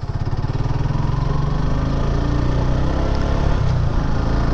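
A 2023 Suzuki Gixxer Monotone motorcycle engine runs steadily with a close, even, buzzing thrum and no voices, holding a constant level throughout.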